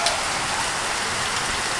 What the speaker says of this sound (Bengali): অনেক জোরেই বৃষ্টি হচ্ছে